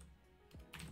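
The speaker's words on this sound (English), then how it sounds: "we're just gonna type player controller 2D" A few quick computer keyboard taps while a script name is entered in the Unity editor, faint and close, with two brief louder bursts of key clicks near the end.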